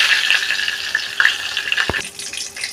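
Bay leaves, dried chillies and whole cumin fry in hot oil, a steady close crackling sizzle with stirring scrapes and a sharp clack near the end, for a spicy chicken pulao.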